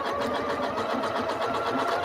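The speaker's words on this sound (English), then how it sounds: "So just a zigzag stitch over the regular stitch, it'll prevent fraying at the edges." A sewing machine runs a zigzag stitch over a regular seam along the edge of a small fabric mojo bag, a steady, close, continuous mechanical whir at even speed with no pauses and no talking.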